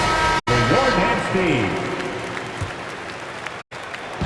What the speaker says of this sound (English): Fans, please give a big round of applause for Jordan and